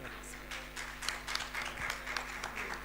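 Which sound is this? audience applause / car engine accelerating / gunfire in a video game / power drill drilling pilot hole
audience applause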